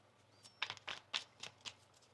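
A tarot card deck being shuffled, with about half a dozen crisp riffling bursts in quick succession, close and fairly quiet, with no talking.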